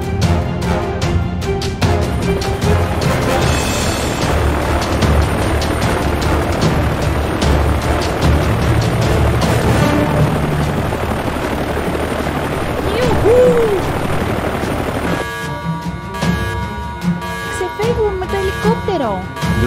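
A helicopter sounds in a Playmobil toy police film about prisoners escaping by helicopter, with a loud, continuous rotor drone lasting the whole stretch under voices.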